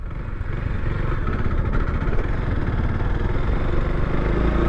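A 2022 Yamaha Crosser 150 ABS motorcycle runs while being ridden, its engine a loud, close, steady drone with a rough mechanical clatter that holds constant throughout.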